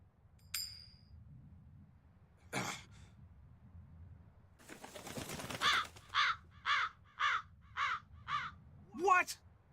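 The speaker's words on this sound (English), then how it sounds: "That crow just flew off with the coin!" Crow in the video game Tales of Berseria cawing in a run of about six rhythmic, fairly loud calls near the end, after a few scattered game sounds and brief noises.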